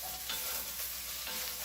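Bacon renders its fat in a pan with a steady sizzle, stirred now and then with soft scraping strokes, close and moderately loud.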